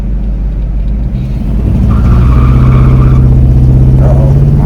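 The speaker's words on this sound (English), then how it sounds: "We're gonna try to do us a nice little burnout" An LS-swapped Chevrolet C10 truck revs up for a burnout. A loud, close engine rumble climbs to a sustained higher roar and holds there, with no one speaking.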